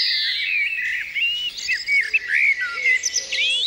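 Several birds sing a dawn chorus in woodland, chirping and trilling together in a lively, continuous chorus of high, varied calls, with no voices.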